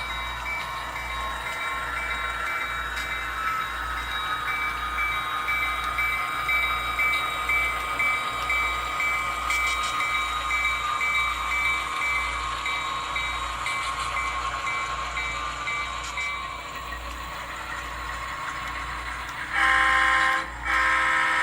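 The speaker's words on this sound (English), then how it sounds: "Our northbound train is taking the passing siding at Cayuga Lake" A northbound train rolls into a passing siding at Cayuga Lake, with a continuous rail rumble, rhythmic wheel clacks over the joints and a sustained high squeal, growing louder near the end.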